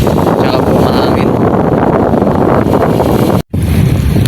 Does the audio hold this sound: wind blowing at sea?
yes